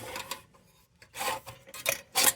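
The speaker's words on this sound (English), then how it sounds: "I'm gonna have to fix that a little bit. And I have the Dremel for it." A Dremel rotary tool grinds on a part of an old Paul's Leader No. 2 lantern, heard as short, close rasping bursts separated by brief pauses.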